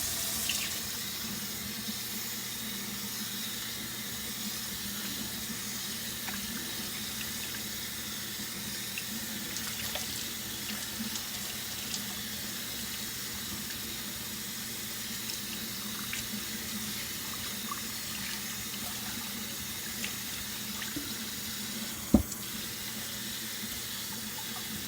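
Cold tap water runs steadily from a faucet while hair is rinsed at a sink, a continuous close hiss with one brief sharp knock near the end.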